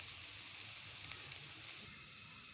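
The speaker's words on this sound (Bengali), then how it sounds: "আমার ভাজিটা প্রায় হয়ে আসছে, একটু ভাজা ভাজা হইলে ভালো লাগে করলা ভাজি।" Bitter gourd slices frying in oil in a pan, a faint, steady hiss and crackle of sizzling throughout with no talking.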